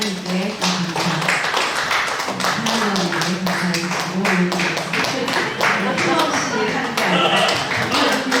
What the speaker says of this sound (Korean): 기뻐하면서 그렇게 박수 치셔야 됩니다